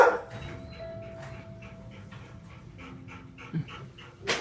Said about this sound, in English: He's a beautiful dog.